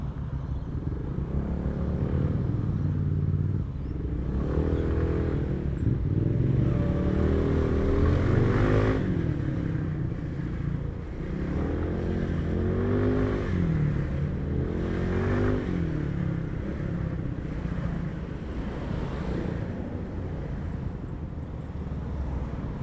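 A small scooter engine hums and revs repeatedly while riding, pitch rising and falling in waves, with wind rush in the background and no talking.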